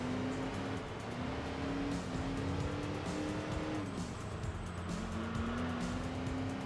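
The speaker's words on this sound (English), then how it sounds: "You can hear the squeal under the braking." Race car engine droning steadily in Enthusia Professional Racing, a pushrod Corvette, with a thin high squeal of racing brakes and tires cutting in now and then.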